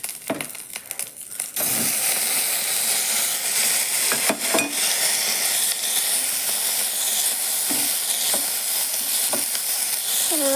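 Garlic, shallots and tomato sizzle steadily in a pan while being sautéed, a continuous close hiss of frying with occasional stirring scrapes and clicks.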